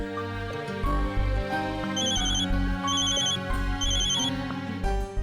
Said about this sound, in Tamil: ஃபோன் அடிக்குது, ஒரு நிமிஷம்.